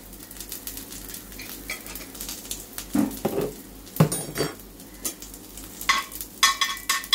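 Sesame seeds and spices fry in a little oil, giving a light sizzle with repeated scraping and clinking of a spoon against the pan in uneven bursts.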